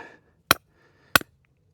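Two sharp, loud hammer blows at an outdoor archery range, struck left-handed about half a second apart, each a crisp isolated impact with quiet between them.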